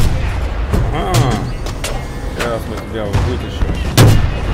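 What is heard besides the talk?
gunfire in the Battlefield 2 video game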